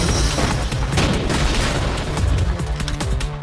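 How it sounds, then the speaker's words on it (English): Sniper gunfire rendered as loud, close, sharp cracks and booms that crowd together in rapid succession across the whole stretch, then thin out toward the end. "From out of nowhere, a sniper takes a shot at you."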